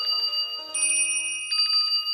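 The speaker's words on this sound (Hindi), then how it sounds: "तो घंटी बजने लगी टन से" A small metal bell rings with clear, sustained metallic tones, struck a few times in quick succession and ringing on between strikes, close and loud.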